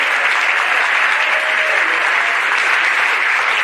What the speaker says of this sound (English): Big round of applause for Ben for reading all those names and getting all those cities right.